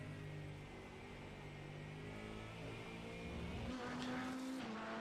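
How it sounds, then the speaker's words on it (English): A Ford Mustang 5-litre V8 race car rumbles down the start-finish straight at Road America, a faint, distant engine drone with a rising tone near the end. "As that Mustang V8, the 5-litre rumbles down the start-finish straight."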